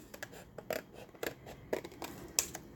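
Scissors snip through paper while a heart-shaped tag is cut out, a string of small crisp quiet cuts and rustles, close and faint, with no voices.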